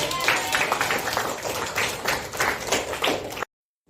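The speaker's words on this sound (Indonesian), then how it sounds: "Kalau sudah, kita tepuk tangan dulu." A class of students claps hands together in a burst of quick, uneven clapping lasting a few seconds, fairly close, with some voices mixed in before it cuts off.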